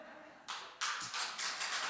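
A church congregation at a Sunday evening service breaks into clapping after a half-second of quiet, the applause swelling and holding steady as a dense, bright patter of many hands.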